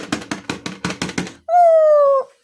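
A dog that has just given birth lets out a string of six short, sharp whimpering yelps in quick rhythm, then one sustained high whine, close to the microphone with no talk.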